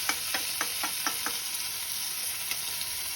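Ground turmeric, cumin, coriander and Kashmiri chilli powder frying in hot oil for a Bengali boal fish curry, a steady close sizzle broken by a series of sharp spoon taps and scrapes against the pan, with no talk.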